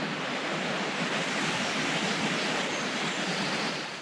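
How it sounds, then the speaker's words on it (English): Strong outdoor wind roars as a steady, dense rush of noise buffeting the microphone, with no gusty pauses. "Yeah, it's windy today."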